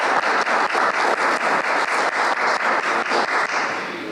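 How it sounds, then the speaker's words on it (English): Attendees at a parole board business meeting applauding for birthdays, a steady rhythmic round of clapping from a modest group, close and fairly loud, fading slightly at the end. "please join me in giving them a round of applause and wishing them happy birthday"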